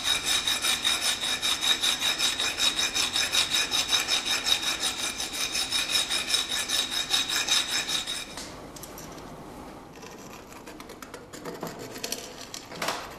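A hand file deburring a metal part gives a steady, rhythmic rasping with close, even strokes that carry on for several seconds, then drops to quieter, scattered scraping and light handling.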